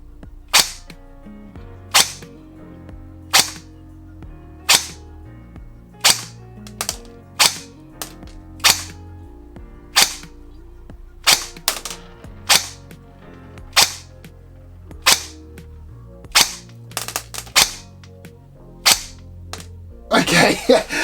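Rossi Neptune 5.5 PDW airsoft gun firing a long string of single shots, each a sharp crack spaced roughly a second or more apart, with a soft mechanical hum in the background and a quick burst of rapid shots at the end.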